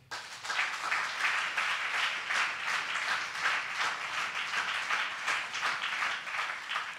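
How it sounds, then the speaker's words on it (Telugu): A church congregation claps loudly together, a dense, sustained burst of many hands filling the hall for several seconds with no one speaking over it. "గట్టిగా ఒకసారి చప్పట్లు కొట్టండి."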